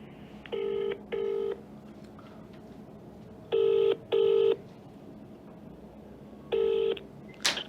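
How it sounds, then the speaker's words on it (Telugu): A telephone number is dialed on a keypad, giving three pairs of short, clear tone beeps separated by pauses over a quiet background. "ఒకసారి అద్దంకి దయాకర్ కాల్ చేద్దాం."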